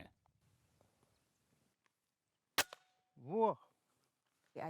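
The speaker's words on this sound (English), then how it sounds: "Put your finger on the trigger only right before you shoot." A single sharp gunshot from a firearm during shooting practice in Africa, a sudden crack followed by a brief echo, with quiet background sounds and voices after it.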